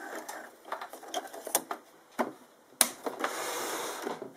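Sewing machine fitted with a bias binding foot stitching bias binding around a mitred corner: a faint, intermittent whirring hum broken by light mechanical clicks and taps, steady running near the end, with no talking.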